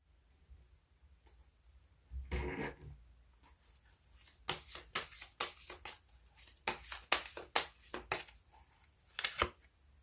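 Fortune-telling cards are shuffled and drawn, giving a soft rustle followed by a run of crisp, close riffling taps and flicks in quick clusters, quiet and with no voice over them.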